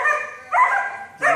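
Young male Doberman barking up close, three loud sharp barks with short gaps between them.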